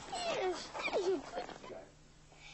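A police dog whimpers and yips in short, high, wavering cries, fairly quiet and close, with faint background hum between the sounds.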